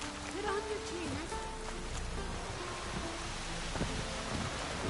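Steady rain hisses across a game world in The Witcher 3, a dense continuous wash with a few faint low rumbles and brief voice-like tones mixed in.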